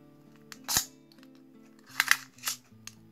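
A tape measure from a Lidl haul, a couple of sharp clicks and a quick snapping rattle as the button is pressed and the blade retracts, close and brief over faint background music.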